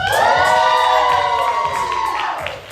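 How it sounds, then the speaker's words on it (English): Audience at a poetry slam cheering and whooping loudly, a sustained crowd roar with a high held shout riding on top that tapers off slightly near the end. "I want y'all to just go and cheer"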